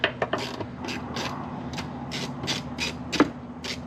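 Ratchet on an overly long extension loosening 10 mm bolts on a car's rear end, a rapid series of crisp clicking bursts at an even rhythm, close and clear with no talk.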